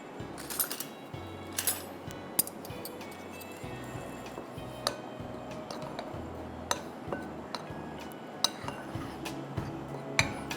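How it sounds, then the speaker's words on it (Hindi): A spoon clinks and taps irregularly against a bowl while flour, cornflour, salt and black pepper are mixed together, soft and close with light scraping between the clinks. "इसको हम करते हैं मिक्स।"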